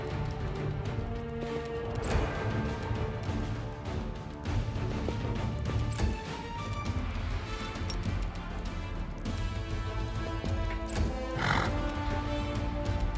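In the fantasy game Pathfinder: Wrath of the Righteous, horses neigh and hooves clip-clop across a continuous, busy game soundscape lasting over ten seconds, with a sharp whinny standing out near the end.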